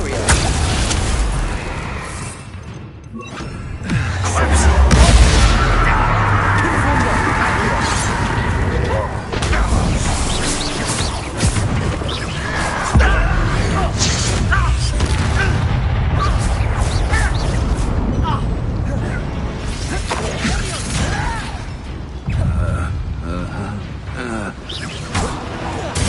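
Confringo blasting curse explosions in the Hogwarts Legacy video game: loud booming blasts and crashing impacts over a dense battle soundscape, with a voice speaking at moments.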